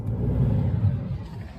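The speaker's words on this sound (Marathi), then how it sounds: "आता गाडी झालेली आमची चालू." A car that had broken down at night runs with a steady mid-pitched hum and low rumble from its engine, heard close and fairly even for the whole short stretch, with no voices.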